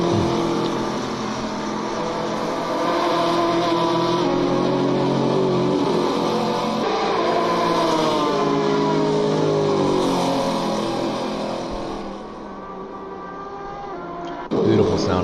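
Race car engine in Gran Turismo at Donington, a loud, sustained whine that rises and falls through gear changes across the whole stretch, ending with a brief drop and a sharp burst.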